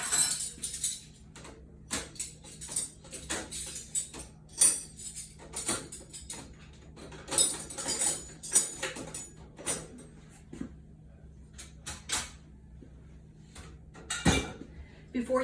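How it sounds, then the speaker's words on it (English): Silverware clinks and clatters as pieces go one at a time into a dishwasher's holed cutlery holder, with intermittent metallic taps and rattles, close by, partly alongside quiet talk. "we can do the silverware, and this particular dishwasher has holes so that the silverware go in one at a time."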